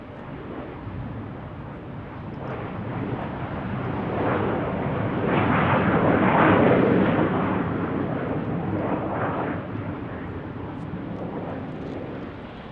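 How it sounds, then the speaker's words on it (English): A Gulfstream 4 private jet landing at Salt Lake City airport, a broad roaring jet rumble that swells to a peak midway and then slowly fades, heard from some distance. "Private fancy jet."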